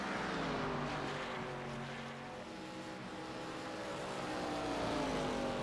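An ARCA Series race car engine in iRacing, coming down pit road: a steady engine roar with a rising and falling pitch, continuous and fairly faint.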